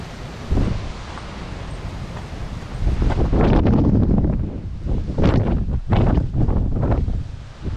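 Strong wind gusts buffet the microphone in a steady roar on the Appalachian Trail, rising and falling with rustling bursts, loud and close throughout.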